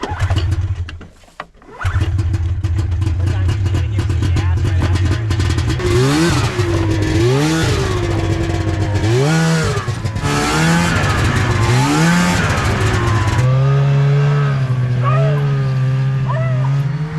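A 1999 Ski-Doo Bombardier snowmobile engine cranks briefly, catches and revs loudly, its two-stroke note rising and falling before settling into a steady close idle.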